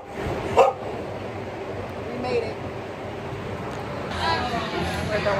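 A few short dog barks sound at a distance, spaced apart, under outdoor background noise and faint voices.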